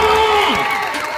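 A crowd at a devi jagran cheers and shouts loudly in a dense wash of voices, with some applause mixed in over a short burst.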